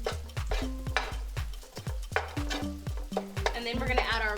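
Rice fries on high heat in a hot pan with soy sauce, a constant sizzle broken by rapid, rhythmic scraping stirs and clinks of a utensil against the pan, close and busy throughout.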